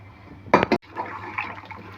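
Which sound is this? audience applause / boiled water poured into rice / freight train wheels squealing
boiled water poured into rice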